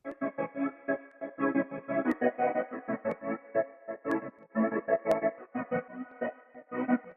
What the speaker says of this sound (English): So every time those kicks hit, it'll duck it.